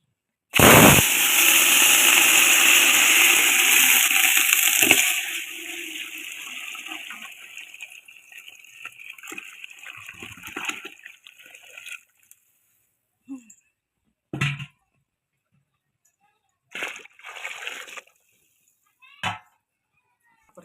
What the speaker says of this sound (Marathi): ह्याच्यात एक कळशी पाणी ओतून घेणार आहे